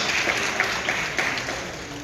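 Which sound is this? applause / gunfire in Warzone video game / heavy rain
applause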